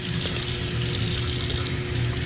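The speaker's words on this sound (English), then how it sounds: "I'm going to go ahead and get some warm water going here." Warm water runs steadily from a tap while a sprayer tip is cleaned, a close, continuous hissing gush at an even level throughout, with no talk.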